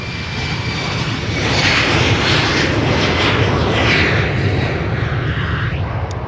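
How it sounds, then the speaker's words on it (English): A Vueling airliner's jet engines as it lines up for takeoff at Amsterdam, a loud, steady roar heard from a distance by the runway that swells slightly midway. "there is a Vueling lining up to take off from center, Kathleen."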